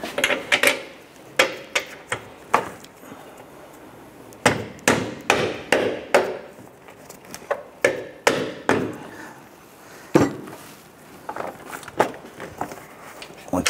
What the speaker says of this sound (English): We're going to go ahead and use our dead blow hammer, and we want to try and tap this in.